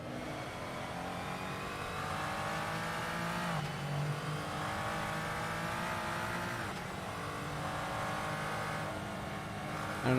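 Glickenhaus prototype race car engine in a racing video game at Road Atlanta, a steady loud drone of high revs with shifting harmonic whine and brief dips between gears, continuous throughout with no talk.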